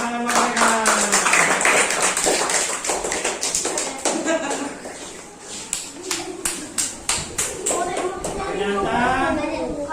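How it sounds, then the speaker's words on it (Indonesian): Children clap together in a classroom, a run of sharp, loud taps that settles into a steady rhythm of separate claps, with a teacher's voice and kids' chatter around it. "Tepuk tangan mereka."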